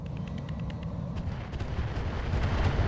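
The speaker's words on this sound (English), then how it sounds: "Another explosion." Explosions rumble in the modded mech combat game Battletech (Roguetech), a dense, booming low roar with sharp crackling impacts that swells louder toward the end, with no voices over it.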